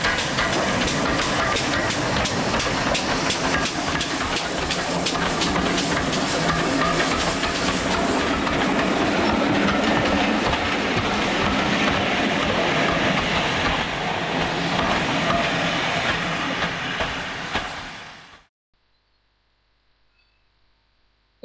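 GWR Collett 0-6-0 steam locomotive 3205 hauling a train on the South Devon Railway near Napper's Halt, a loud sustained rumble of wheels and steam hiss close by for most of the stretch before cutting off to near silence.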